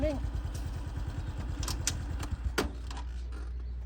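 A motorcycle engine runs close by with a steady, low throbbing idle, joined by light metallic clatter and a few sharp clicks, while voices speak over it.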